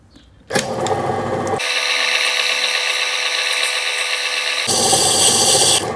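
Opal ground on a lapidary grinding wheel: a steady high grinding whine starts abruptly after silence, continuing close and loud, with the tone shifting as the stone's pressure on the wheel changes partway through.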